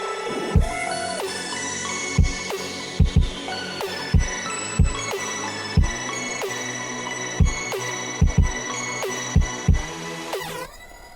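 A melody is played from a sampled cat meow loaded into a sampler, with pitched meow-like notes repeating in a steady rhythm over layered electronic tones and low thumping beats.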